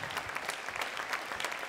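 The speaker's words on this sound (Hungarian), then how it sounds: "szeretnénk neki kérni egy hatalmas nagy tapsot" A gala audience applauds the long-serving host Kovács Iván, a dense, steady burst of many hands clapping at moderate distance, with no voices above it.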